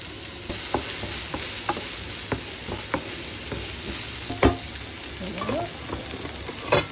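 Onion and garlic fry in a pan for Filipino garlic fried rice, a loud, steady sizzle with scattered sharp pops and clicks of a utensil against the pan.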